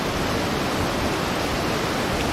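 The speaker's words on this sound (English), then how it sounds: "and the sound of water" Water flows at night near a bridge, a continuous, even rushing hiss that stays loud and unbroken throughout with no voices or other sounds.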